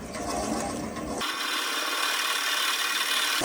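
A drill bores out a Bradford pear wooden bowl at about 200 to 225 speed with a grinding, rasping whir, starting rough and then settling into a steady, high-pitched hiss.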